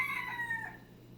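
A rooster crows once at a moderate distance, a short strained call that fades out, faint against quiet background.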